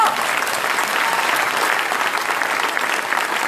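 A crowd at a New Year's greetings evening applauds in a full, sustained wash of clapping, dense and even from start to finish.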